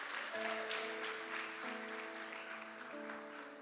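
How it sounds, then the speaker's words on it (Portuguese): A church congregation applauds during an Easter evening service, soft and distant clapping spread across the room, with a sustained organ or keyboard chord ringing underneath. "Dê um aplauso ao Senhor pela vida dela."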